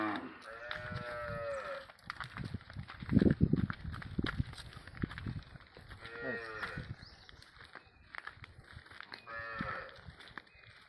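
Bulls led along on a Konkan farm low several times, deep drawn-out moos rising and fading between quieter stretches with faint shuffling.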